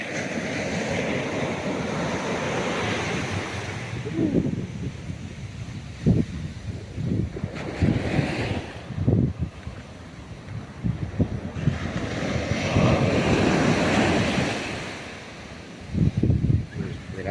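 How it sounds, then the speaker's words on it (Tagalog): Surging waves crash and wash in on the coast of Aurora province, Philippines, with several heavier impacts over a continuous rushing background of water and wind. "Delikado maligo ngayon, malakas yung alon."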